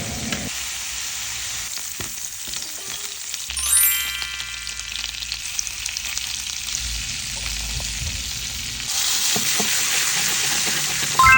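Shrimp sizzle and fry in a pan of 7-Up soda while being stirred, a steady close hiss with light scraping and tinkling spoon touches, growing louder toward the end; no talking.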